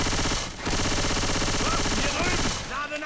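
Loud rapid gunfire in the zombie shooter Left 4 Dead 2, dense repeated shots with a brief pause near the start, and a voice faintly under the firing.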